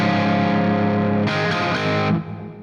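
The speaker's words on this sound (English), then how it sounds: "This is what the amp sounds like." A Marshall Plexi amp driven hard with guitar and no effects, both treble and normal channels at full volume, rings out as loud distorted chords, sustained then re-struck and cut off near the end.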